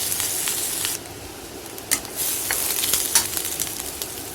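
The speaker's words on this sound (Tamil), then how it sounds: "நம்ம நறுக்கி வச்சுருக்கோம் பாருங்கள் காய், அதை போட்டு நல்லா வதக்கிக்கலாம்" Vegetables, including capsicum, sizzle steadily in hot oil, with occasional louder crackles and pops as they are stirred in the pan.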